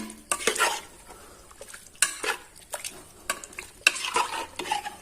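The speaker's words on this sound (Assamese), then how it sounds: "এইদৰে চিকেনখিনি মই অলপ সময় ইয়াত অকণমান সময় মই ভাজি ল'ম।" Chicken stir-fried in a pan for biryani, with repeated scraping and clanking of a spatula against metal over a light sizzle, in uneven bursts close to the listener.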